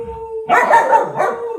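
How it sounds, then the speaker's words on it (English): A dog barks and yowls close by in a quick run of excited, howling barks, with a steady tone humming underneath. "I might even get him barking"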